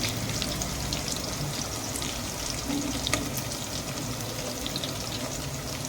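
Hot oil in a kadai gives a steady hiss and sizzle, fairly faint and continuous, with a few small pops and no talking.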